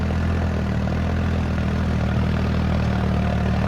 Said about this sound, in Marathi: इथून थोडं ट्रॅक्टर जोरातच न्यावं लागतं